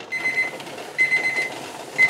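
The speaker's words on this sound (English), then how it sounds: "The timer's going off." A pressure canner timer alarm rings loudly while milk is being canned, a steady repeating electronic beeping heard up close with no talk.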